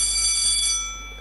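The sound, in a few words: quiz contest buzzer bell ringing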